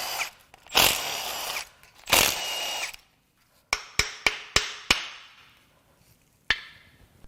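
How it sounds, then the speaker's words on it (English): Oil filter housing work on a 2015 Dodge Ram 2500 5.7 V8 engine: two short whirring bursts from a power tool, then a quick run of five sharp metallic clicks and a final single click, close by with quiet gaps between. "I need to take the oil filter housing off"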